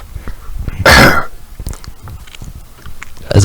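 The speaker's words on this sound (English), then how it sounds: "I just cough" One sharp, loud cough bursts out close to a microphone in a casual podcast setting, set among quiet chatter and small mouth noises.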